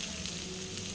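Capsicum frying in a pan, a brief, even, continuous sizzle, close and moderately loud, with no talking.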